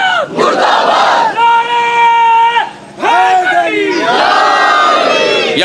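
A large crowd at a Muharram religious gathering shouts slogans in unison, loud rhythmic call-and-response chants with sustained voiced cries and brief pauses between.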